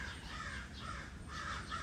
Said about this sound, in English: As you can hear, the crows are very active.